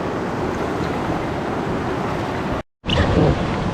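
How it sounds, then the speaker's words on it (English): Steady broadband rush of water and wind around a small river taxi boat being paddled with a stick down a jungle river in Sumatra, loud and continuous, with a brief dropout near the end. "Our driver here, he's paddling with a stick, and then we're letting the current take us back to the village."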